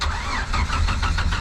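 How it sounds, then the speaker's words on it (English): A 1995 Jeep Wrangler with the 4.0 engine, low on power and with 156,006 miles, starts roughly, cranking in steady repeating pulses that merge into a loud, close, uneven running sound with no talk. "Starting the engine."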